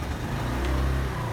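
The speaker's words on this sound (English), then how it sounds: "crank the engine" The engine of a 1992 Honda Accord cranks and runs with a loud, steady low-pitched drone, heard up close and without any talk.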